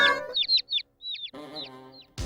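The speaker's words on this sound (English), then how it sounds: "This hen is big." Hen clucking on a farm: several short, bright clucks in a quick broken series, fairly close and moderately loud, with a brief rustle at the end.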